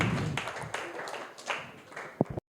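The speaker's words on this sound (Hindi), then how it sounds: "ताली बजा दीजिए इसके लिए" Applause from an audience at a Hindi talk on freedom from addiction: a short burst of scattered hand claps, fairly close and uneven, fading out within a couple of seconds.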